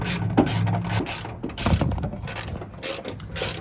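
A hand ratchet clicks in quick rhythmic bursts with short pauses as a 17 mm nut is tightened on an Ohlins coilover for a Honda S2000; close, crisp and alone.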